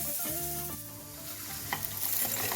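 Tomato sautés with masala in a hot pan, a continuous close sizzle and hiss with occasional stirring scrapes near the end, over a faint steady tonal hum.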